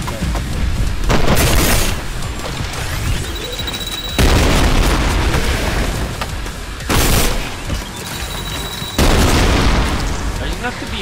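Repeated heavy explosions in the shooter game Trepang 2, loud booming bursts arriving every few seconds with rumbling tails, mixed with game noise.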